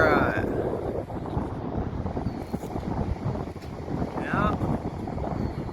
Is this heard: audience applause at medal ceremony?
no